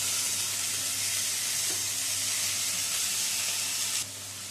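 Greens with fried potato and aubergine sizzle steadily in a pan, a dense even hiss with faint stirring that drops suddenly quieter near the end.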